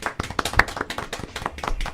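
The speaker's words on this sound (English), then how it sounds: "let me clap into the mic" Several sharp hand claps close to a microphone, irregular and fairly loud, with small tapping sounds between them and no talking.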